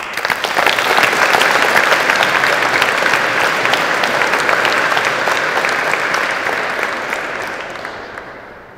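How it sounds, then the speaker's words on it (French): A large audience applauds thunderously to welcome the prosecuting lawyer at a staged mock trial. The clapping is loud, dense and sustained for several seconds, then gradually fades away. "Sous un tonnerre d'applaudissements"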